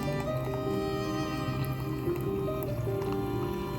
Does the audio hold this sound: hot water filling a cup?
yes